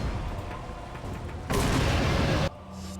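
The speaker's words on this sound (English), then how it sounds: "You can just keep throwing grenades at them." A grenade explosion from the video game Resident Evil 4 arrives as a loud, broadband blast lasting about a second before it cuts back to quieter game ambience, with no talk over it.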